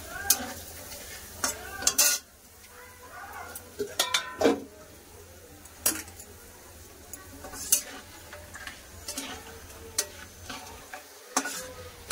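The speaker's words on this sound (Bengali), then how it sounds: "এবার ভেজে নেবো পাঁপড়।" Papad frying in hot refined oil, with sharp crackles and bursts scattered among stirring and pan clatter, close and fairly quiet, while a voice talks now and then.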